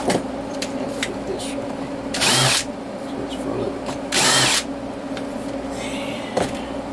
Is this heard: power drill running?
yes